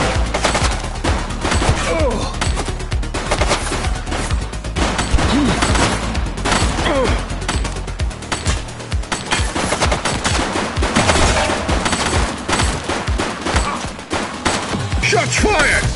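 Sustained, loud gunfire from a police video game, with rapid overlapping shots and bursts that sound like machine guns, close and unbroken across the whole stretch, with shouted voices faintly underneath.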